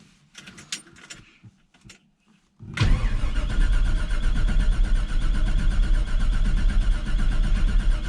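A 1968 Chevy C20 big block engine cranking over without starting, a few faint clicks and then a loud, continuous, droning starter grind that carries on to the end.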